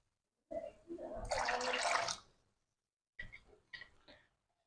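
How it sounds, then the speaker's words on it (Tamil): Cool water poured into nannari sherbet in a steady splashing stream lasting about two seconds, followed by a few short dribbles and drips, close and quiet in an otherwise silent room. "கூல் வாட்டரையும் நம்ம நமக்கு தேவையான அளவு விட்டுக்கொள்ளுவோம்"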